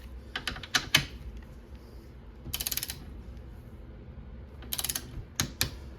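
A wrench ratchets on Honda Civic seat bolts, the 24 mm bolts being tightened in quick bursts of close clicking, several short runs separated by pauses, fairly quiet.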